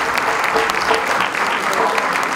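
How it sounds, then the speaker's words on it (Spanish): A crowd at a live Peruvian criolla music show applauds heartily, a continuous dense clapping that stays loud and even, with faint voices mixed in. "El aplauso para ellos."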